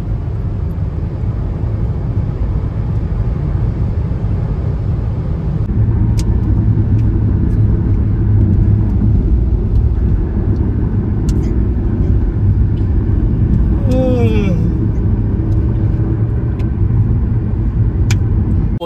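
A car cruises along a highway toward Prayagraj with about 268 km still to go, filling the cabin with a steady, loud low road rumble and engine drone that swells slightly midway and stays even throughout, with no talk.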